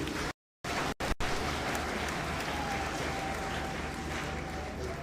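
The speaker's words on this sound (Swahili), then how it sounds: "Tumpigie makofi." A crowd of mourners at a memorial service breaks into sustained, dense applause that fills the space evenly, interrupted by a couple of brief dropouts near the start.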